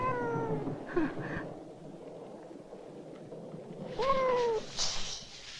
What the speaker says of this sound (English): Pussycat! You mustn't sit on Arnie. He's allergic to kitties.